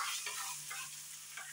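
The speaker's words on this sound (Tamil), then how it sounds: "இது நல்லா பொறிஞ்சு வரட்டும் நமக்கு." Greens and other ingredients for ara keerai thovaiyal fry and get stirred in a pan, a steady soft sizzle with a few scraping stirs, fairly faint and with no talking.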